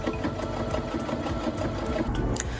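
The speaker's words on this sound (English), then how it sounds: "what I'm gonna do next is I'm gonna top stitch it closed" A sewing machine top stitches a denim collar, its steady rapid needle chatter and motor hum running continuously and close by, alone without speech.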